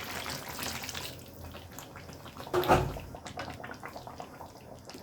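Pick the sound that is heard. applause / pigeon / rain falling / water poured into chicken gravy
water poured into chicken gravy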